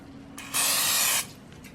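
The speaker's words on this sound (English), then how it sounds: "now I'm gonna clean the bowl and spray it with oil" Cooking oil spray goes into a bowl for proofing pandesal dough: one loud, close, steady hiss lasting about half a second, with a softer lead-in and faint trailing puffs.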